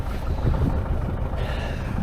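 Steady, blustery wind roaring across an open farm field, a continuous low rumble with gusty buffeting and no voices.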